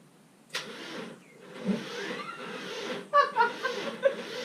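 A BMW M20B25 turbo engine cranks and catches with a sharp start, then idles roughly and revs up close by, while people laugh and talk nearby.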